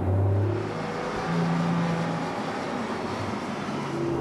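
Porsche 911 GT3 RS driving on the Bilster Berg test track: a steady engine drone with a rough, broad roar, heard continuously over the whole stretch.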